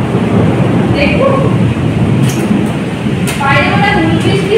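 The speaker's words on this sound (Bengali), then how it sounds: "বাইরে মনে হয় বৃষ্টি হচ্ছে" Heavy rain from a storm pours down outside, a loud, steady wash of noise that fills the whole stretch without pause.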